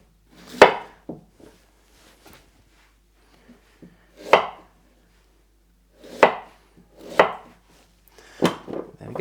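A knife chops carrots and parsnips into quarters and eighths on a board, sharp isolated thuds arriving one at a time with pauses between them, close and clear in a quiet room.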